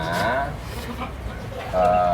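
Cattle in a cowshed give drawn-out lowing calls, one at the start and another near the end, over a quiet, slightly noisy barn background with faint voices.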